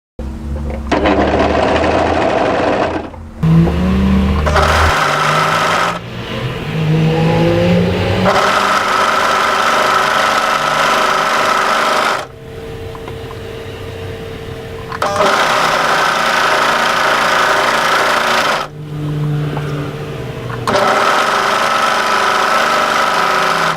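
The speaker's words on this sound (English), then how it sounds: "I'm going to overlock the raw edge of the hem just to hold those fraying" An overlocker finishes the raw edge of a draped midi dress hem in several loud, steady whirring runs, each a few seconds long, separated by brief pauses.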